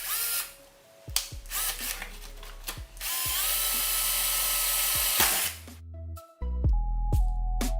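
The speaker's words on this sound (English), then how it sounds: "Now I got to drill the 6 holes, 3 on each side, for the speaker screws to go into." A power drill with a 5/16 bit bores holes in a Tesla Model 3 for speaker screws. It gives several loud, whining bursts of drilling, separated by brief pauses and clicks.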